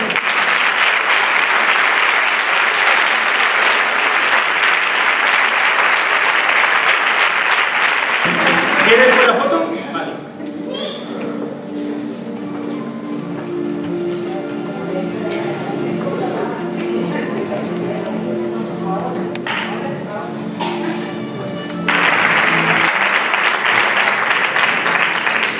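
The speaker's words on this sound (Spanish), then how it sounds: "Fuerte aplauso." Loud, dense applause from an audience at a tribute gathering honouring elderly people fills the first nine seconds, gives way to quieter music and voices, then swells back to full clapping near the end.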